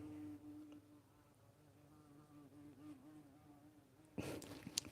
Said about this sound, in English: Ooh, sorry, I've got a giant bee in here.